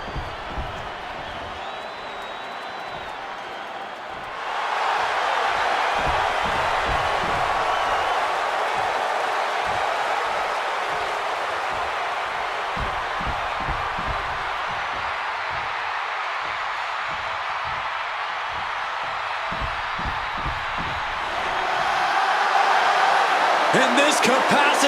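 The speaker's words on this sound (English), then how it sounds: "And this capacity crowd just exploded." A packed arena crowd roars and cheers continuously at a WWE 2K26 showdown between Seth Rollins and CM Punk, swelling after a quieter opening and surging louder near the end, with a commentator talking over it.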